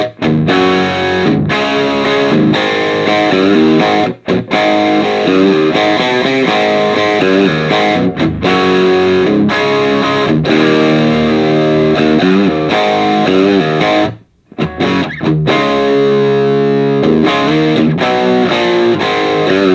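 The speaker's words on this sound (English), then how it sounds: "Hear that bridge pickup with some Copper Drive." Granville Nash Vegas electric guitar played through its bridge pickup with a Copper Drive overdrive, a loud, continuous distorted riff with thick sustained chords and one brief break near the end, with no talk.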